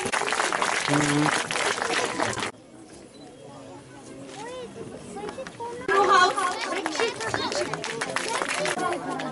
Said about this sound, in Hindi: इन बच्चों को जोरदार तालियां के लिए